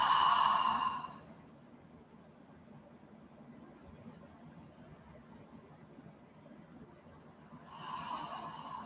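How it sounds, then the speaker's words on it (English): A deep, full exhalation through an open mouth during a yoga breathing exercise, a soft breathy rush that fades after a second, followed by near silence before another open-mouthed breath begins at the end. "3 full exhalations through an open mouth"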